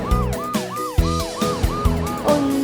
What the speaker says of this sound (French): Voilà Amber l'ambulance.